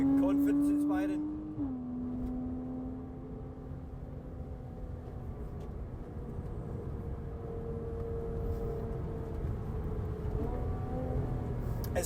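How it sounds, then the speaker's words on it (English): A modified Porsche 987.2 Cayman S with an aftermarket exhaust drives on a wet road, its engine a steady rumbling drone heard from inside the car, with a brief shift in pitch early on and quiet talk over it. "It's like a mini cup car with that exhaust."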